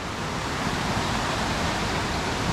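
Water of a mountain creek tumbling over rocks in Lamington National Park makes a constant, full-bodied hiss and rush, close and loud throughout, with nothing else audible.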